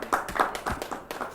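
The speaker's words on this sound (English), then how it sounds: "can we have an applause for Rauf and Amarjit?" A small group claps briefly for game show contestants, a short burst of scattered hand claps with uneven rhythm, moderately close, lasting just over a second.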